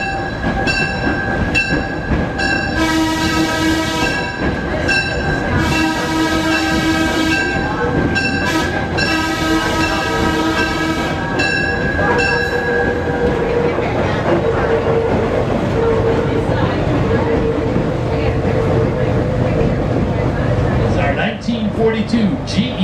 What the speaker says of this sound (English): GE Diesel Electric, used by the U.S. Navy during World War II at the Naval Ammunition Depot in Charleston, South Carolina